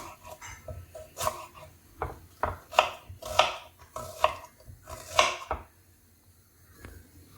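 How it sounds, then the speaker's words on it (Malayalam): Two onions are chopped into fairly large pieces on a board, a knife thudding in a steady series of close, distinct strikes, then falling quiet near the end. "ഇനി നമുക്ക് വേണ്ടത് രണ്ട് സവാളയാണ് അതും ഒത്തിരി ചെറുതായിട്ടല്ല ഒരുവിധം വലുപ്പമായിട്ട് തന്നെ കട്ട് ചെയ്തെടുക്കാം"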